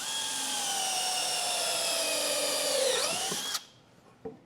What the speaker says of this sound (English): now I'm pre-drilling for the screw to punch through